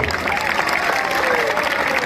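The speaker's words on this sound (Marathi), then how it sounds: "आपासाठी जरा टाळ्या करा सर्वांनी." Dense crowd applause at an outdoor wrestling ground in Wadgaon Sheri, Pune, a continuous roar of many hands clapping, loud and steady, with a voice audible over it.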